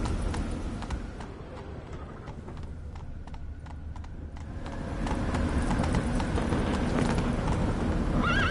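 Roach the horse gallops in Witcher 3, hooves clip-clopping in a steady rapid rhythm at close range, with a brief whinny and the hoofbeats swelling louder toward the end.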